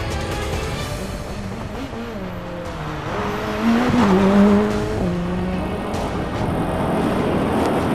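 A race car on a racing-experience track in Taichung revs and shifts, its engine note rising and falling close by as tires squeal loudly through a corner midway, then the engine keeps droning on.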